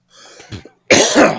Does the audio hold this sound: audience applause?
no